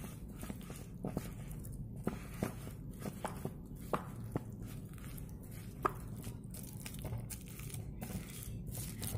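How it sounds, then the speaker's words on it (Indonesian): Steamed tempe being mashed in a bowl, giving soft, irregular crushing and squishing taps that are fairly faint and spaced unevenly, with no talk. "kita selanjutnya haluskan tempe yang tadi sudah kita kukus"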